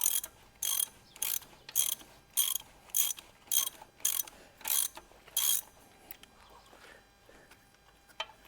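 Bolts loosened with a ratchet during a car teardown: a regular series of about nine short, bright ratcheting bursts, each under a second, evenly spaced, then quieter scattered clicks near the end, with no talk.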